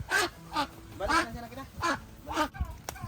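Loud duck-like honking quacks repeat about five times in a steady rhythm, close by, with faint background chatter.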